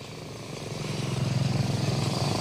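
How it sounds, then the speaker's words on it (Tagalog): A helicopter flies over Maguindanao during a rescue of wounded police special forces, its rotor a steady, rhythmic low thumping that grows louder as it nears, with no voices. "Howie, eksklusibong nakuna ng GMA News ang paglilipad ng isang helicopter sa Maguindanao sa mga sugatan"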